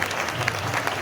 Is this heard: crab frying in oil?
no